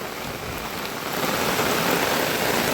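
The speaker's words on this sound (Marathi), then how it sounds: "इकडं भरपूर पाऊस पडतो इथं" Steady rain pours down in a village, a dense broadband hiss of drops that grows slightly heavier and louder after the first second, with no voices.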